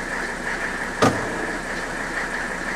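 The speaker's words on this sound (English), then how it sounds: "that last sound you heard, I believe was the cable coming out of the motor assembly" A cable pops out of the sliding roof motor assembly on a Mercedes W126, one short sharp clunk partway through, close and loud against a steady background hum.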